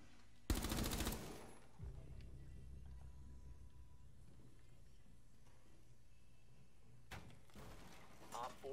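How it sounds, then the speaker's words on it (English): Gunfire in the video game Rainbow Six Siege aimed at a camera: a loud, dense burst of automatic shots near the start, then quiet game ambience, with another short burst of shots near the end. "You're gonna shoot the camera."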